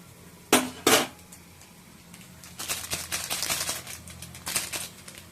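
Pots and dishes clatter in a home kitchen while Maggi noodles are cooked: two sharp, close metallic clanks, then a run of lighter knocks and clinks that grows busier toward the end.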